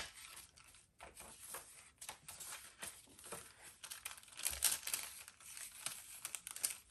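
Vintage glassine bag crinkled and handled in hand, a steady run of close, dry papery rustles and crackles throughout.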